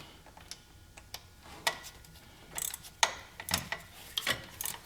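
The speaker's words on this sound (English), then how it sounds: "I'm just going to use the regular ratchet here" Hand ratchet clicking on a bolt while changing the thermostat on a 2014 Ford Escape, quiet close-up bursts of rapid pawl ticks in short irregular strokes, no voices.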